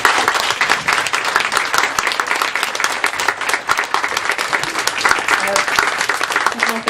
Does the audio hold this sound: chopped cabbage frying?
no